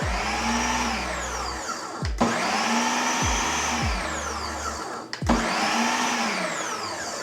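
A food processor pulses a dry mixture for homemade cheese crackers, with three loud, close whirring bursts separated by brief stops.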